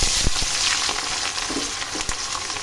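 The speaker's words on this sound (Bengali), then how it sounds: "এই পেঁয়াজ রসুনগুলো একটু ভেজে নেব" Onions and garlic fry in oil over dried red chilli, cumin and a bay leaf for a mutton curry, a dense, close crackling sizzle with a few sharp pops and stirring knocks.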